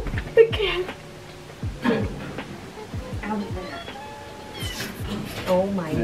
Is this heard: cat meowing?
yes